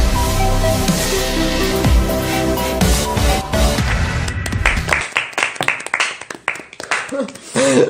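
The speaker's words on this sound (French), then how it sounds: "Beaucoup d'applaudissements" Studio audience at a French Téléthon TV game show breaks into applause over music, the clapping thinning into scattered claps and a few laughs as the music cuts out.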